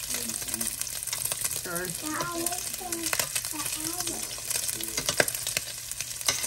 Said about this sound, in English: It's gonna take about 10 minutes to get this bacon all cooked up and ready for eating.